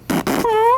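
A man blows two short raspberry bursts with his mouth, imitating a fart, then a brief high voiced squeak, loud and close with no words.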